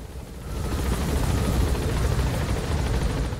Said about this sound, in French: il y a encore des hélicos qui se baladent quoi